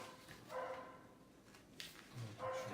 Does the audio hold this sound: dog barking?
yes